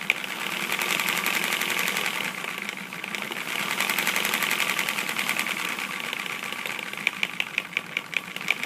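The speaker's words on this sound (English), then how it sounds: "it knocks like that whenever it's idling" A Lego model diesel engine idles with a fast, mechanical rattling knock, steady and fairly close, turning into sharper separate clicks near the end.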